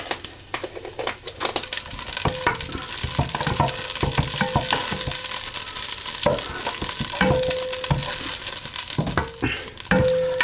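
Panch phoran whole spices frying in a pan over a medium-high flame, a steady loud sizzle with scraping stir strokes and metallic clinks of a utensil against the pan, no talking.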